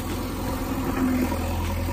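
A bulldozer engine runs with a steady, deep, rumbling hum as it works to pull a tractor stuck in a field. It stays close and continuous throughout.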